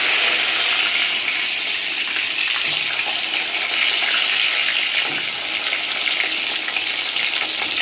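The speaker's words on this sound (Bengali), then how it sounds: "বেগুনটা আমার লাল লাল করে সুন্দর করে ভাজা হয়ে গেছে" Eggplant pieces fry in hot oil, giving a loud, close, unbroken hiss and crackle throughout, with faint stirring underneath and no voices.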